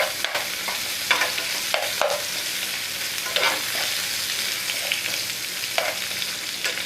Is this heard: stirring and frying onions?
yes